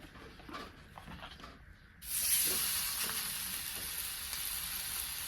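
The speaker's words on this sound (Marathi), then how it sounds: "थालीपीठ मी वर टाकून घेते थोडंसं तेल टाकायचं आहे" Thalipeeth, a Maharashtrian flatbread, hits oil in a pan and starts a steady, loud sizzle that holds on after quiet handling noises.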